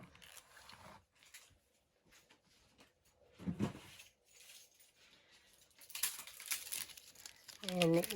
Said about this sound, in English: this is the Basket Weave Dynamic Texture Embossing folder that I'm using here